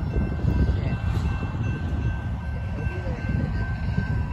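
A BNSF freight train rumbles steadily nearby, a heavy low roar with a faint high whine above it, continuous and fairly loud.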